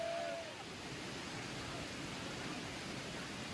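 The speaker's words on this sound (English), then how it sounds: "water from the overflowing ponds and springs nearby gushes into the dham" Water from overflowing ponds and springs gushes into a Himalayan shrine in Uttarakhand during heavy rain, a steady dense rushing roar with a faint tone at the start and no clear voices.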